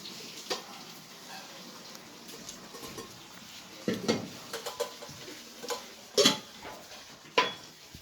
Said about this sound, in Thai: พระท่านฉันพัฒหารเสร็จแล้วเอาบาทมาล้างครับผม ล้าง แล้วก็ทำการเช็ดบาท